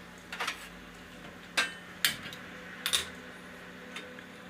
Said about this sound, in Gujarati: આપણે આ નાની કડાઈ માંડશું